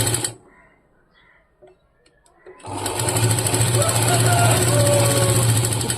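A sewing machine stitching cloth along a half-inch margin on the front part of a garment gives a short burst, then a quiet stretch with faint sounds, then a loud, steady, close-up running whir that continues to the end.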